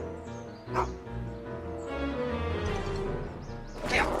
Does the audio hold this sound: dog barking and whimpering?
yes